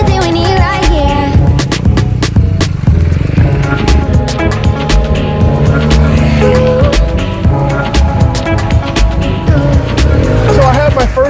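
A 2019 BMW R 1250 GS Adventure motorcycle with an Akrapovic titanium exhaust being ridden: a loud, steady engine drone with rising and falling pitch under heavy wind rush, close and continuous throughout.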